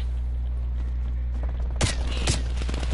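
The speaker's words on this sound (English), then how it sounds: "Who is shooting at me?" Gunfire in Call of Duty: Black Ops Cold War, a few sharp shots cracking out over a steady low hum of game noise, two of them louder and closer.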